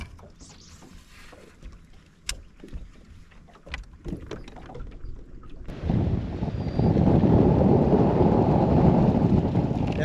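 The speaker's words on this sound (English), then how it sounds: "That wind is absolutely ripping right now around this island." Strong wind roars around a river island on the Chowan River, building from gusty rumble into a loud, steady broadband blast that buffets the microphone for the second half.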